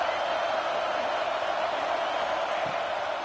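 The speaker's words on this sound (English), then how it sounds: "This dog crowd is off the leash, and they are coming after them, bringing noise on third down." Stadium crowd noise rising on third down in an NCAA college football video game, a steady, dense roar of cheering fans filling the whole span at constant loudness.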